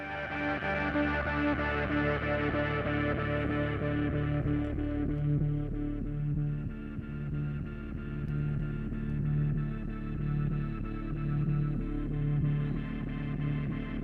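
Synth patch run through the Arturia op-amp 21 distortion effect, a thick sustained chord with a pulsing low note repeating in a steady rhythm, fairly dark with little high end, playing alone without speech.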